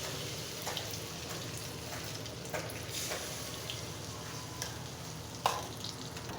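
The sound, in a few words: egg and rice-flour pitha frying in a pan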